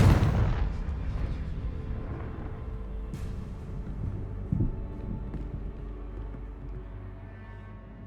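Confringo fire spell blast cast in the Hogwarts Legacy video game, a booming burst at the start that rumbles and decays, followed by lower crackling debris and a faint later thump, with no talk.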